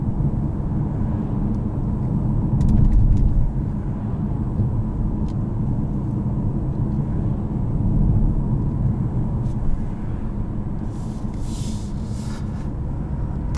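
A 2021 BMW 540i M Sport cruises along with a steady low, broadband road and engine rumble inside the cabin, smooth and continuous, with faint ticks and a brief swell of wind noise.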